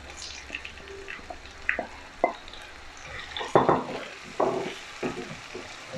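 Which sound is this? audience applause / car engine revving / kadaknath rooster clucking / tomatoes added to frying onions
tomatoes added to frying onions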